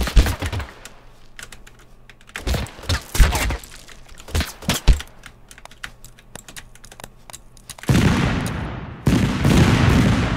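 A grenade blast in the video game Totally Accurate Battlegrounds: sharp bursts and clatter through the clip, ending in two loud, sustained broadband roars near the end.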